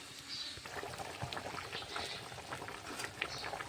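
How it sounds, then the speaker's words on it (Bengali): Thin rohu fish curry broth with potato and radish bubbling in a pot, a steady close wash of boiling and gurgling liquid with small pops, fairly quiet, no talking. "ঝোলটা ভালো করে ফুটিয়ে নিয়েছি।"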